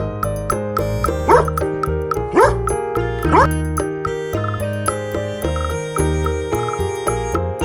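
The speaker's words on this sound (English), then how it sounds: "D for dog." A cartoon dog barks three times, each bark rising in pitch, over bright, busy children's music with a steady beat; the barks stand out clearly above the tune.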